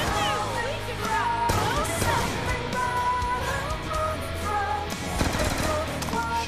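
Automatic weapon fire from Black Ops 2 Zombies, rapid gunshot bursts layered over loud game music and effects, continuous and dense throughout.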